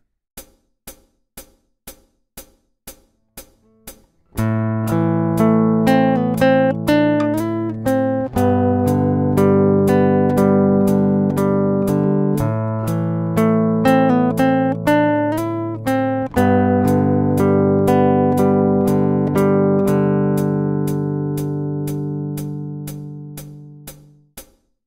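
Fingerstyle acoustic guitar playing the first line of theme 2 of a piece, beginning with a few ticking metronome clicks, then ringing picked chords and melody notes in a steady measured rhythm, close and clear, with the clicks continuing throughout.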